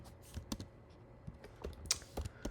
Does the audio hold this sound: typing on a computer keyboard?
yes